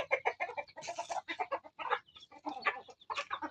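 Backyard chickens cluck and squawk in quick, busy bursts while squabbling over food, several birds calling close by with short pauses between flurries.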